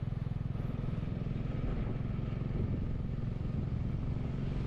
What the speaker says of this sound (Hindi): बाइक में थोड़ा सा लोड शुरू हो गया है